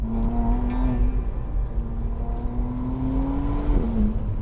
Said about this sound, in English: that's when you start hearing that 120-degree laid out V6 with the turbos